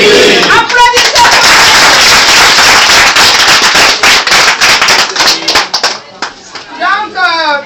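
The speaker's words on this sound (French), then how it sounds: "Applaudissez." A crowd at a political campaign rally bursts into loud, crackling applause that stays heavy for several seconds, then thins out as a voice returns at the end.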